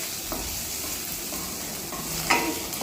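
Boiled, diced potatoes stirred in a frying pan for a sago snack: a steady soft sizzle with scraping spatula strokes and a louder clatter near the end, close by, with no speech.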